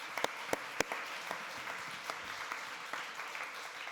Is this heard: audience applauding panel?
yes